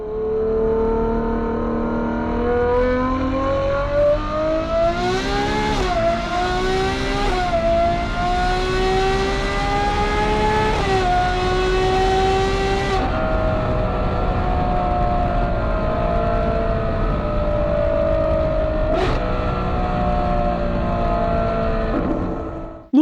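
A V12 engine of the kind Ferrari and Pagani build, revving loudly and steadily, its pitch climbing through several sharp rises and gear changes before holding a sustained high whine.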